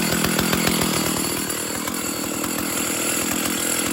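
A Stihl 032 AV chainsaw runs with the choke off, a loud, close, slightly uneven two-stroke buzz with rapid pulsing firing strokes over four seconds.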